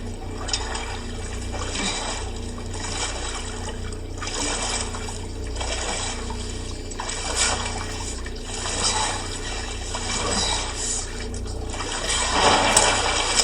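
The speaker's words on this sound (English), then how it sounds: "So there's some water splashes." Water splashing and trickling in the video game The Last of Us Part 2, a steady wet churn that swells louder near the end, heard alone without talk.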